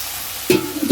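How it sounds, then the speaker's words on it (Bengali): Tomatoes hit a hot pan in a short burst of sizzling and stirring, with a brief scrape, after a quiet start. "এখন কষাচ্ছি কষানো মধ্যে দিয়েই আমি ওই টমেটাগুলো দিয়ে দিলাম"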